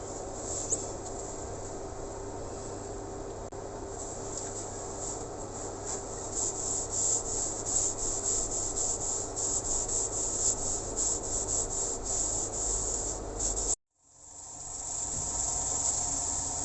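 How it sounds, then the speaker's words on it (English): Steady rubbing and whirring as a cloth works sanding sealer onto an off-center wooden bowl spinning on a lathe, continuous and close, cutting out briefly near the end. "now it's just going to put on a coat of sanding sealer"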